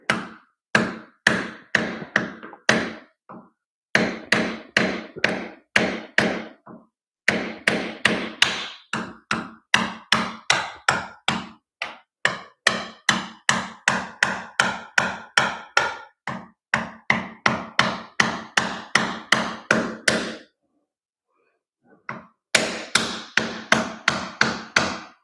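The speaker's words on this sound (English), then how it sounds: "Oh, give me the damn hammer." Rapid metal hammer taps during an oil change on a 2012 Honda NC700X DCT motorcycle, loud and close, coming in fast regular bursts with brief pauses between runs.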